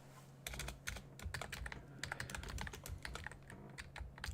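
Rapid, irregular clicking of keys on a computer keyboard, close and steady for several seconds with no one talking, under a faint low steady hum.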